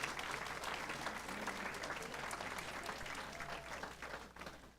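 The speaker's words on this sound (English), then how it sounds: "Let's give them another big round of applause." An audience at a school board of education meeting gives a sustained, even round of applause that fades out at the end, with no talking over it.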